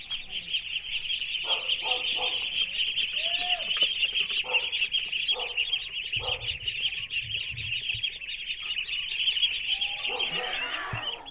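Ducks penned beside a village house in Vietnam give a few short nasal quacks and calls at a moderate distance, over a steady high insect-like drone throughout.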